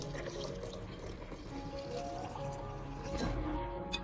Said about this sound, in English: pour in about 500 milliliters of clean filtered water